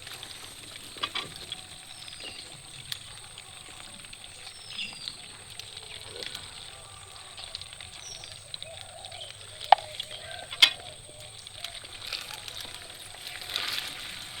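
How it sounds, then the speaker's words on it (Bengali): Potatoes frying slowly in a clay pan outdoors in a field, a soft continuous sizzle with scattered crackles and a couple of sharper pops, fairly quiet throughout. "লাল লাল করে নতুন বইয়ের মতো ভেজে নেব হ্যাঁ লাল দেব ঢেকে ঢেকে ভাজবো আস্তে আস্তে করে"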